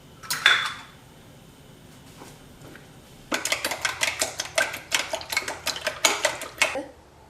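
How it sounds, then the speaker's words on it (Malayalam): Egg scrambled with salt in a frying pan, heard as a scatter of faint scrapes at first, then a quick run of sharp, close metallic chopping and scraping strokes against the pan. "ആവശ്യത്തിന് ഉപ്പിട്ടിട്ട് ഇത് നന്നായിട്ട് കൊത്തി പൊരിച്ചെടുക്കുക"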